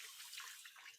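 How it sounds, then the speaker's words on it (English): Tap water running as hands are rinsed in a kitchen, a soft continuous hiss of flowing water, faint and steady with no voices. "I'm going to give my hands a quick rinse"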